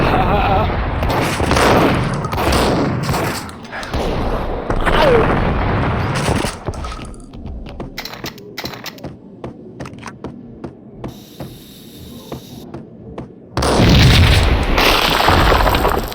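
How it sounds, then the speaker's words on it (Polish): Loud booming gunfire and explosions from the Max Payne video game, dense blasts over the first seven seconds, then sparse sharp clicks and pops, and a final roaring burst near the end, with no voices. "Cholera, huknęło jakby wybuchła bomba."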